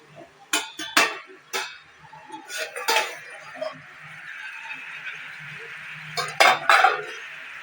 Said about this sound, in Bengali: এবার এটাকে আমি একটা থালা দিয়ে দেব তো এবার আমি ঢাকনাটা খুলে দেখব